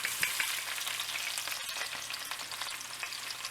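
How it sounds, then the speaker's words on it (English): Sliced onions sizzle and crackle in hot oil in a pot for a curry, a bright continuous hiss with small pops, close up and fairly quiet, with no talking. "You want to make sure you hear that nice beautiful sizzle when you add everything into your pot."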